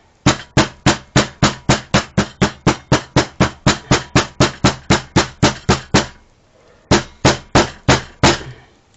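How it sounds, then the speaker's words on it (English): A hammer taps the spine of a feather repeatedly in a quick, steady rhythm for fletching reed cane arrows, close and crisp, then pauses briefly before a few more taps follow. "I'm going to use a hammer and gently"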